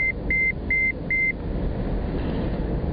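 A steady high-pitched seatbelt warning beep inside a taxi repeats four times at an even pace over a low engine hum, then stops while the rumble continues.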